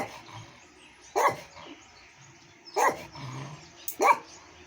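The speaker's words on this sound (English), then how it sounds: "God, what a bad dog." A guard dog barks in three sharp separate bursts, moderately close, with quiet pauses and faint movement noise between them, no talking.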